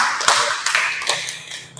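Audience clapping for two teachers at a school presentation on positive culture, a brief burst of scattered claps with distinct sharp hits, fairly near and fading toward the end.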